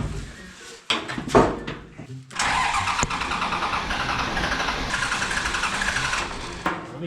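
An off-road rollback truck's engine is cranked and catches, turning over in bursts before settling into a steady, close, loud running rumble that continues to the end.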